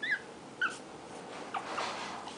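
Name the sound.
Shih Tzu puppy whimpering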